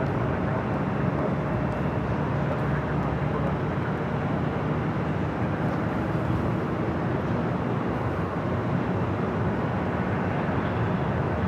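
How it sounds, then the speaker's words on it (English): An Air New Zealand Boeing 777-300ER in all-white livery, Flight 4 from Auckland, arrives at LAX with a broad, steady jet roar. A voice talks faintly underneath. "Air New Zealand in the all-white. Flight 4 coming up from Auckland, the 777-300ER."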